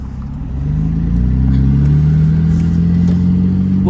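A stock 1995 Ford Taurus engine idles steadily and close by, a low, even hum that swells slightly and then holds for several seconds without any voices.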